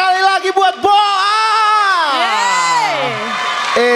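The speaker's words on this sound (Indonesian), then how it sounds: "mana tepuk tangan buat Boa, sekali lagi buat Boa" Studio audience at a stand-up comedy show whooping and cheering for a comedian, a loud sustained crowd roar with overlapping shouts over a few seconds.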